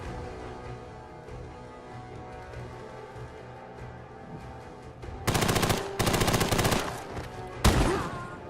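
Fallout 4 gunfire bursts out in three dense automatic volleys and a final sharp shot, loud and close after a stretch of quieter ambient game sound.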